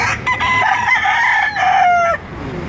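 A rooster crows loud and close at a poultry market, one long drawn-out call over a din of other fowl clucking and calling nearby.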